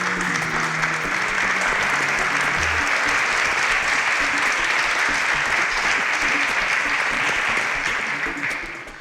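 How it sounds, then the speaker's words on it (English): An audience at a televised Nigerian pitch competition applauds as a contestant leaves the stage, loud continuous clapping that holds for several seconds and then tapers at the end, with brief low music at the start. "A round of applause for Fadola as he exits the stage."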